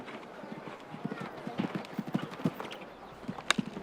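Hooves of the show-jumping horse Salt and Pepper clip-clopping at a Grand Prix event, a quick irregular run of soft thuds at moderate distance, heard under an announcer's commentary.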